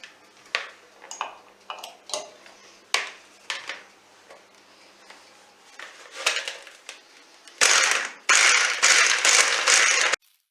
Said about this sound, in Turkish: şeker ve tereyağını ekleyerek çırpmaya başlıyorum